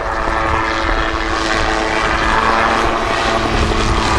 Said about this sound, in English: In this case, Peter can actually rotate it in the spin easily